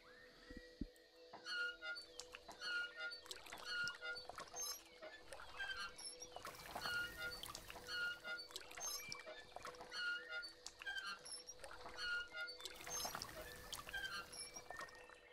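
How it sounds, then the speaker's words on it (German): Watering a tree in the video game LUNA The Shadow Dust produces a steady series of soft pouring and splashing cues repeating at a regular rhythm, quiet and alone over a faint musical backdrop. "Grüner Daumen, der Baum mehr als 20 Mal gießen."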